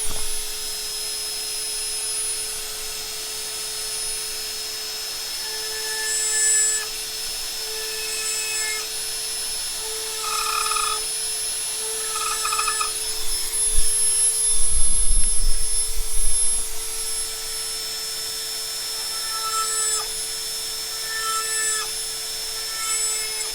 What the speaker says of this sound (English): you can simply just use a small drill bit with your Dremel